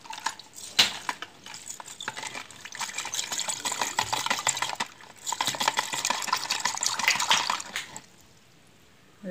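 Sloshing and dripping as a blackened silver anklet is rinsed in a bowl of water after scrubbing, two steady bursts of splashing with brief pauses, close up and alone before falling quiet.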